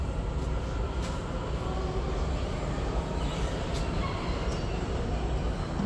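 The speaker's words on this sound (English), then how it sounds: "It seems that the Washington Metro train is moving." A Washington Metro train rolls through New Carrollton Station with a loud, steady, broadband rumble and rail roar that holds constant throughout, close by and with no voices.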